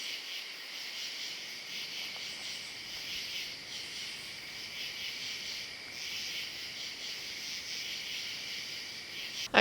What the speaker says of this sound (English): crickets were just going off